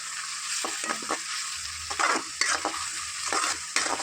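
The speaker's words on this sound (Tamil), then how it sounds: "நல்லா தக்காளியோட பச்சை வாசனை போகிற அளவுக்கு நல்லா வதக்கணும்" Tomato masala with salt sautéing in a pan for a meal maker and egg masala, a soft continuous sizzle with repeated scraping strokes of a spatula stirring, fairly quiet and close.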